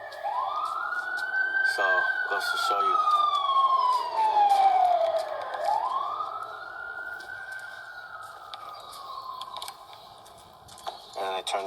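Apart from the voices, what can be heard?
emergency vehicle sirens passing by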